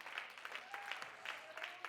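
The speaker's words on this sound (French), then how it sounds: "C'est bizarre, c'est juste les femmes qui ont applaudi." Women in a church audience give a faint, distant patter of clapping that keeps up steadily for a moment, heard quietly with some murmuring voices.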